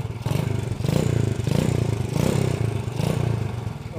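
A Supra Fit motorcycle engine runs steadily at close range after an ignition fault repair, its low throbbing hum swelling and easing in a few rhythmic pulses with some mechanical clatter.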